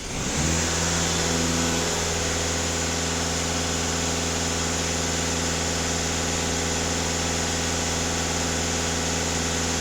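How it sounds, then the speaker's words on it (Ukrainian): VW Golf 2.0 TDI with the EA288 diesel engine held at about 2500 rpm, a loud, steady, close-up drone with a quick rise at the start and no talk. "даю газ в пол на 2500 обертів"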